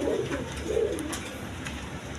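A pair of pigeons cooing up close, soft low throaty coos in two short bursts over faint background noise.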